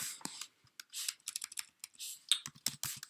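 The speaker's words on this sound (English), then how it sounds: "Sorry for my typing" Quick typing on a computer keyboard while coding, with rapid, uneven bursts of close, crisp key clicks and short pauses, quiet and alone.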